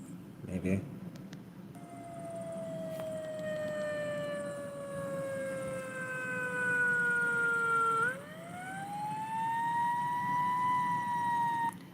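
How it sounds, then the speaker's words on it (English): A directional warning siren heard from in front drones as a loud, sustained harmonic wail that slowly sinks in pitch, then swoops back upward and holds steady, with a faint voice underneath. "So it's a fairly directional siren, and you heard how it sounds from the front"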